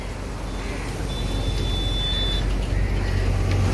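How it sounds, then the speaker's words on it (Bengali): Cars passing by on Sukanta Setu, a flyover bridge in South Kolkata, heard as a continuous, fairly loud traffic roar up close that swells slightly toward the end. "এই যে আমাদের পাশ দিয়ে গাড়িগুলো বেরোচ্ছে"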